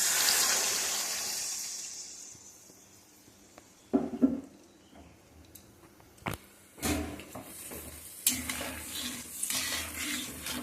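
Water poured into a hot pan of paneer korma sets off a brief burst of sizzling and bubbling, followed by intermittent stirring clatter and splashes of the simmering liquid, close and moderately loud, with no talking.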